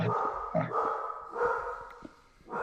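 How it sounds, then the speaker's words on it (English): A dog barks excitedly in a home during a Minecraft gaming session, giving several close, loud barks and yips in an uneven burst that fills the whole clip, with no talk over it. "Yep, that's my dog."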